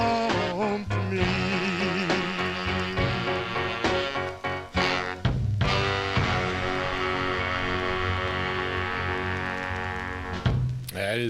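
A 1955 New Orleans R&B 45 plays steadily from start to finish, with full band and lead vocal at a constant, loud level.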